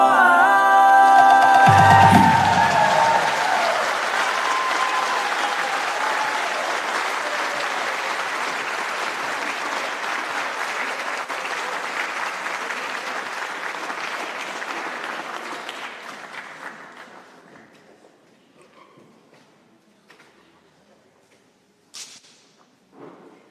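Audience applause at the Moana Connect Launch 2022, a dense, sustained ovation that holds steady for about fifteen seconds before fading out to near silence, with a brief burst near the end.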